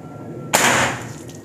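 A single shot from a Ruger AWM PCP air rifle: a sharp, close crack that bursts out after a moment of quiet and then decays over a fraction of a second.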